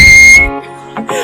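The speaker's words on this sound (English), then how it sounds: "Can you whistle?" One person whistling a steady, bright, high note close to the microphone at a school broadcast interview, held briefly before cutting off, followed by a short burst of talking.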